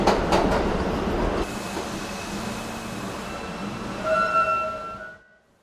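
A Seoul subway train runs with steady rolling rumble and rail noise, rising into a brief squealing whine near the end as it slows before fading out.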